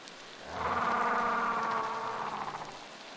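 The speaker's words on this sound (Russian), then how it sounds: "Обрати внимание, как с чистого неба идет дождь." Steady rain pattering down in the video game Beasts of Bermuda, a soft continuous hiss that swells in after half a second and holds fairly evenly to the end, with no voices.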